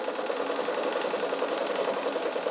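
A vintage all-metal Kenmore Model 120 zigzag sewing machine, made in Japan, stitching steadily at close range, a rapid even whir and clatter held without a break over a change in fabric thickness.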